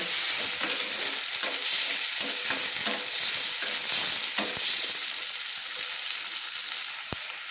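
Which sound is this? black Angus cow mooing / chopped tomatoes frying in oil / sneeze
chopped tomatoes frying in oil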